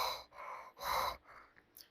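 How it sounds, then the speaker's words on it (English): Heavy breathing through an open mouth, in several loud, breathy in-and-out pulses spaced about half a second apart, then fading to softer breaths. "why are you breathing so heavily?"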